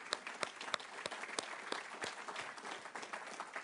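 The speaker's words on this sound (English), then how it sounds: "I'd like us just to have a round of applause for him" An audience at a student research and development showcase awards ceremony applauds, a steady patter of many hands clapping at a moderate, fairly distant level.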